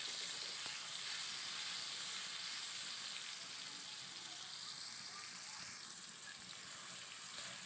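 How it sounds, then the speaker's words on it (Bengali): Tomatoes frying in oil while being stirred, a continuous soft sizzle and hiss heard fairly quietly throughout, with no talk. "টমেটোগুলো তেলে দিয়ে দিলাম একটু নেড়ে নেব যাতে নরম হয়ে যায়"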